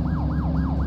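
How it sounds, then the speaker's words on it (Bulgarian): Police car siren in the video game The Precinct, a loud, close wailing tone repeating in quick rising-and-falling sweeps over a low engine rumble, with no talking. "activate your lights and siren"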